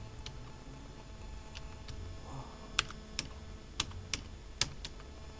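Computer keyboard keys are tapped one at a time in a slow, uneven sequence of about a dozen crisp clicks, spelling out a short word, close up over a quiet room hum.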